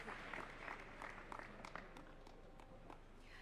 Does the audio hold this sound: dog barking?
no